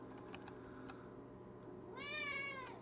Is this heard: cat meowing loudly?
yes